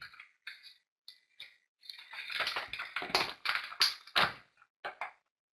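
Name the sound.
someone typing on a computer keyboard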